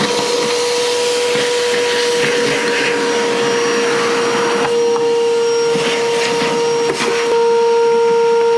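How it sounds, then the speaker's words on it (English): A shop vacuum sucks fallen leaves out of a Ford Fiesta engine bay, a loud, continuous whine with a steady tone and rattling, rustling bursts as debris is drawn in. "I'm gonna vacuum these leaves out of the way"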